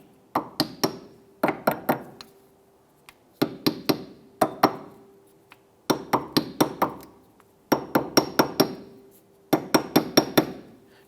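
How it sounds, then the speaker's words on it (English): A hammer taps around the edge of a metal nut cap on a 2001-2005 Honda Civic rear wheel hub, in quick bursts of four or five sharp, ringing strikes, each burst separated by a short pause, close and clear. "Now we go ahead and install our nut cap. We're just going to tap this around the edge."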